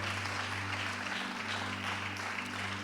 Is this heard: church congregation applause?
yes